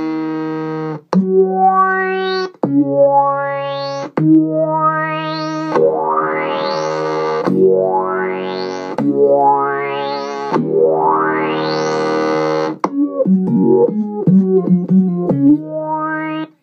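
Electric guitar run through a Microsynth pedal with its rate pushed higher, giving a string of synth-like notes that sweep upward in pitch over about a second each, loud and distorted, with a choppier run of notes near the end and no talking.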